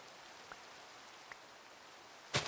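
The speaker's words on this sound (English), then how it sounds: "Oh, it's raining now." Steady hiss of rain falling in the video game Minecraft, a soft continuous wash with a couple of faint tick sounds and a brief louder burst at the end.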